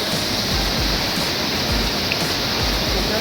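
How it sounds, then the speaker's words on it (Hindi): Clear water flows down a mountain stream into a village channel, a steady, loud rushing wash that fills the clip from start to finish with no voices. "और ये है पानी, बिल्कुल साफ स्वच्छ पानी दोस्तों।"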